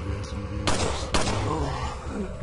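Gunfire in the video game Resident Evil 4 comes as two loud, sharp bursts close together, each with a short ringing tail over a low game background.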